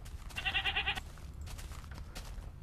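Goats bleating in Minecraft with the Tekkit pack: a short run of quavering, pulsing bleats near the start, followed by blocky in-game clicks and thuds, with no voices.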